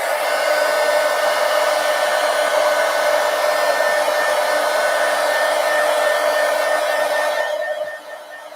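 A hair dryer blows steadily to dry inked artwork, a loud, close, even whir held for several seconds before it switches off and winds down.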